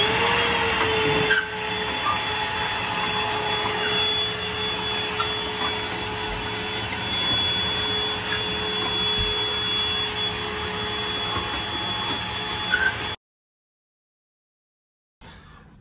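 An HVAC air conditioning system runs steadily to cool a house, giving a loud, continuous broadband whoosh and hum with a faint tonal whine, then it cuts off abruptly near the end.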